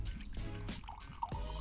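Homemade beer, brewed outdoors in the woods, pours from a jug into a glass with a soft, quiet trickle and gurgle, fairly close, with a faint low background rumble.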